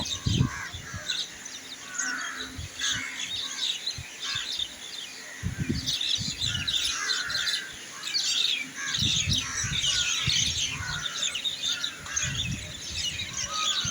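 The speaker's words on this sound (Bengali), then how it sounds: "এই পাখির কিচিমিচি ডাক শুনতে খুবই ভালো লাগে" A morning crowd of crows and other birds gathers at an outdoor feeding spot and keeps up a busy mix of caws and high chirps, with nearby caws breaking out in bursts over a steady background chatter.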